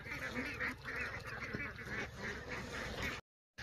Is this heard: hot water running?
no